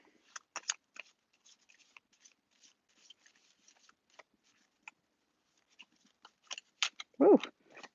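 Playing cards are shuffled by hand in sparse, faint riffles and flicks, a brief louder rustle and thump near the end.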